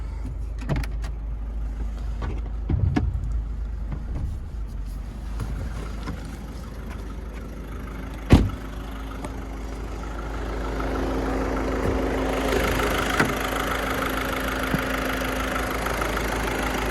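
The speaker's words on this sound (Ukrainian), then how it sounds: "Двигун працює як годинник екологія на місці, нічого не вирізалося." Skoda Octavia A5 engine idling with the climate control running, a low steady rumble heard up close, joined by a brief sharp click midway and a rising fan hiss toward the end.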